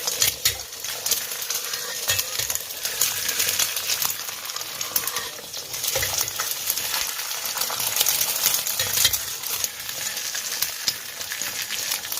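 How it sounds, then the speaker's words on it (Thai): Beaten eggs for a Thai omelette sizzle and crackle in hot oil in a pan, a loud continuous frying hiss with bursts of spattering, heard alone. "ถ้าน้ำมันร้อนแล้วเราก็ เอาไข่ เจียวเลยนะคะ"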